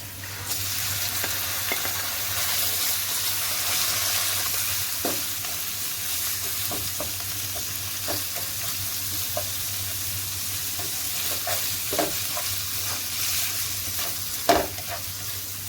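Steady sizzling of minced meat frying with garlic in a hot pan for a cabbage mince dish, with occasional scrapes and clinks of a spatula stirring, close and continuous without talk.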